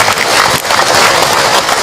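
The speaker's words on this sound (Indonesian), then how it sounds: "Tepuk tangan buat orang tua kita semua" An audience at a religious talk applauds for their parents, giving a loud, dense, continuous clapping from many hands that fills the whole moment.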